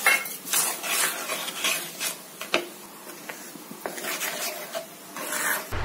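A spoon stirs gelatin and sugar into a milk mixture for mango pudding, scraping and clinking against the bowl in irregular close strokes.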